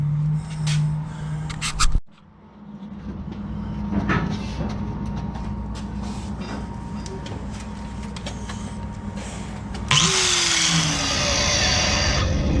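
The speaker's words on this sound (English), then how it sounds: "I'm gonna start cutting this clutch off of here" A power tool cuts a stuck clutch off a machine in a fab shop, a steady grinding whine with a sharp stop and restart and a bright, harsher cutting stretch near the end, mid-distance with no talk.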